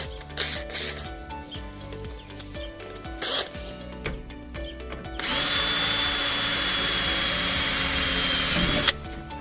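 A blunt power drill boring a hole during a horsebox repair: some clattering handling first, then the drill runs at a steady, loud whine for about four seconds before stopping.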